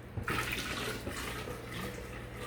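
Heated raw egg mixture, warmed to 160 degrees, pours steadily from a container in a home kitchen, a continuous close liquid splash with a brief onset.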